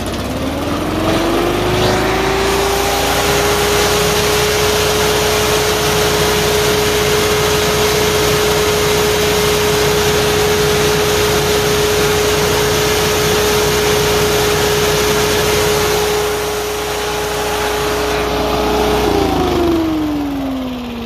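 Walk-behind leaf blower engine revs up and holds a steady, loud, close drone at full throttle for most of the time, then winds down near the end, with no talking.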